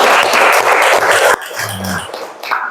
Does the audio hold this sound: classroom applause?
yes